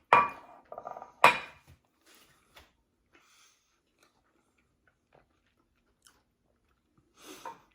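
Someone chews a spoonful of rehydrated Peak Refuel beef stroganoff, a freeze-dried camping meal, with a few close crunchy bites and utensil clinks at first, then faint, sparse mouth sounds.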